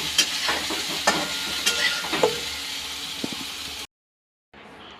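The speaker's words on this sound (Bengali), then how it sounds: "সয়াবিনটা ভেজে নিই।" Soybean chunks with turmeric and salt fry in hot oil in a pan, a steady close sizzle broken by sharp stirring scrapes and clinks before cutting abruptly to near silence.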